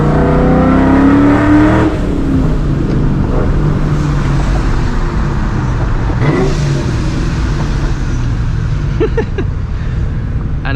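A straight-piped, supercharged 2004 Ford Mustang GT V8 roars loudly from inside the car, revving hard with rising and falling pitch and a brief shift, its exhaust echoing off nearby walls.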